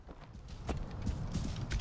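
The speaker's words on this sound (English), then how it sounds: "Let's try out the new horse." Hooves clip-clop in a quick, uneven rhythm over a low rumbling background, a horse trotting at moderate volume in the game Assassin's Creed Origins.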